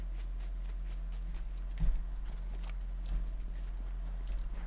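Enemy player footsteps in the video game Fortnite, a steady run of soft regular steps with a few heavier thuds, close by over a constant low game hum.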